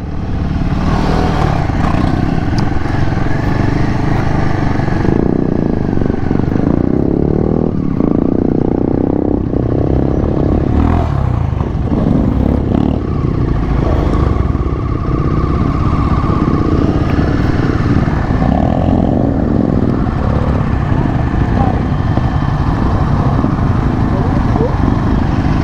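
A Royal Enfield Himalayan 450 motorcycle engine runs loud and continuous on a test ride, with wind and road noise mixed in and a voice talking over it at times.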